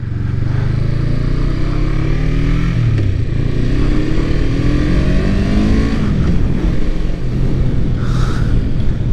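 Small free motorcycle with worn front suspension ridden along, its engine loud and close, revving up and down through gears with rising and falling pitch across the whole stretch.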